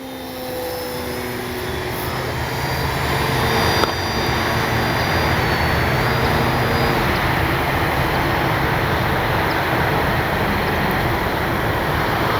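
An E-flite Piper Cherokee RC model airplane flying and coming in to land with its flaps down, a steady electric motor whine and rushing drone that grows slightly louder after a few seconds and then holds.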